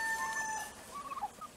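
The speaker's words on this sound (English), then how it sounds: "Noisy cockerel." A noisy cockerel calls in a farmyard among hens and a turkey, a single short, thin crowing or clucking cry heard fairly faint against outdoor background noise.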